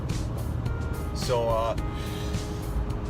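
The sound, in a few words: truck driving on the highway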